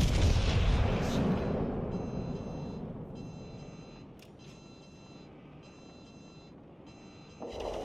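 A naval shell hitting a warship in the World of Warships Legends video game, a loud heavy boom that rumbles and fades, followed by repeated electronic alarm beeps in short bursts.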